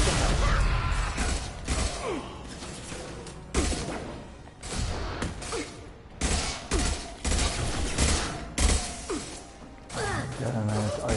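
Rifle gunfire in the Mass Effect 2 video game, repeated loud bursts of shots with crashing impacts and thuds in a chaotic battle, with voices talking in between.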